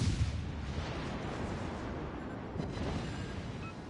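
The Amagi warship fires high-explosive shells in World of Warships: Legends, a low rumbling boom of naval artillery rolling under constant battle noise, muffled and sustained rather than sharply punctuated.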